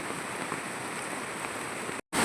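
Rain falls steadily in a village as an even, dense hiss with no pauses, until it drops out for a brief moment at the very end.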